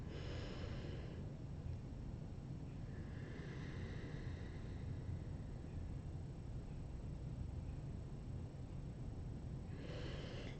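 A slow, deep breath drawn in and released again near a microphone, soft airy inhales and exhales spread across several seconds over a steady background hiss.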